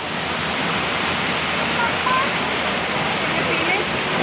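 Hot spring water pours and rushes at the Roman Bath, a steady dense wash of flowing water that holds constant and close throughout, with no distinct voices.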